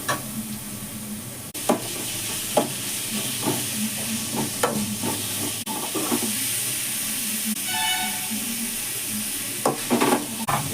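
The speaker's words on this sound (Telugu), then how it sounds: "కొంచెం ఫ్రై అయినవి ఈ బీట్రూట్ తురిమి వేస్తున్నా." Grated beetroot sizzles and fries in a pan with a steady hiss, punctuated by scraping stirs and occasional clinks against the pan.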